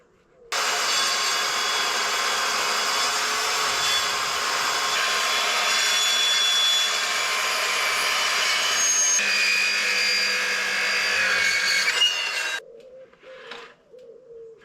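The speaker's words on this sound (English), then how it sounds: "So time to measure, cut that up and start sanding." A power tool works a wooden worktop, cutting and sanding with a loud, steady whine that runs unbroken for about twelve seconds before cutting off, leaving faint, quieter sounds afterward.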